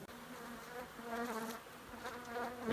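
A large honey bee colony living inside a house wall gives off a soft, continuous buzzing hum that swells and fades slightly, faint and muffled, with no talking.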